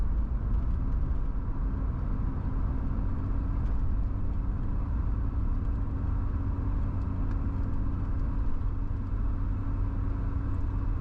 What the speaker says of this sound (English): All I can hear is the purr of the massive power plant under the hood.